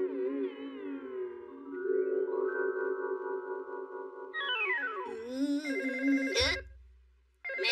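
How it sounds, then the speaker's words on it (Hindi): A cartoon telephone rings in a series of bright, warbling electronic tones that rise and repeat, loud and close, ending abruptly. "मैं फोन उठाता हूँ।"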